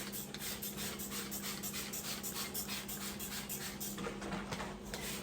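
Water sprayed onto a wooden furniture piece during prep for painting, a steady hissing spray with repeated pumping pulses, close and continuous.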